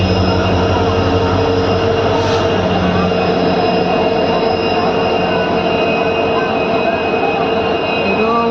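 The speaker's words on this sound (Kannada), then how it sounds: "ಇನ್ನೊಂದು ಟ್ರೈನ್ ಬರತೈತಿ." A passenger train rolls in at a station on the Vijayapura–Sindhanur–Bengaluru route near Mantralayam, producing a loud, continuous rumble with steady humming tones that holds without a break.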